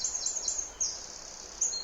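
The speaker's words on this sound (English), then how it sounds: "as you can hear the birds singing in the background" Birds singing outdoors, a few thin high-pitched chirps and short warbling phrases repeating at intervals, faint and somewhat distant against a quiet background with no talk.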